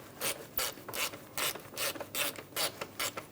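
A ratchet clicks in about ten quick, evenly spaced bursts as a bolt is tightened on the radiator of a 2007-2017 Ford Expedition with a 5.4L V8, close and clear with no talk.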